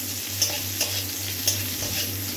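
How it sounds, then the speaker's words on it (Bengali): Onion frying in hot oil in a wok, a steady close sizzle broken by a few soft stirring scrapes, with no voices. "তারপরে পেঁয়াজটাকে ভেজে"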